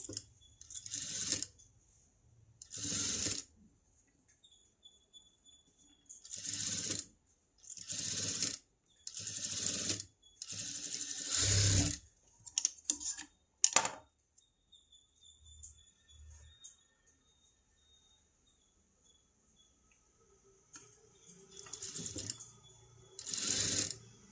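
Sewing machine stitching a princess-cut boat-neck blouse with lining, running in repeated short bursts of rapid mechanical clatter separated by pauses, fairly close and alone.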